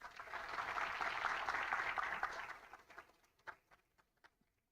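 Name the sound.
audience applause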